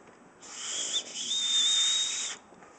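A hand-carved willow whistle gives one sustained shrill, pure tone of about two seconds, slightly wavering in pitch, clear and close against a quiet outdoor background.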